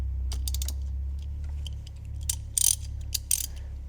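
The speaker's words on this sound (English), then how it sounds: "I'm going to pull the drain plug" A wrench loosens the front differential drain plug on a 2024 Polaris Ranger 1500XD. A few sharp metallic ratcheting clicks sit over a steady low hum, getting louder near the end.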